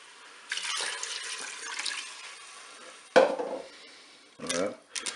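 Water poured into a Cookeo pressure cooker over beef with peeled tomatoes and white wine, a steady splashing pour, then a couple of short louder clatters and splashes near the end, close and alone.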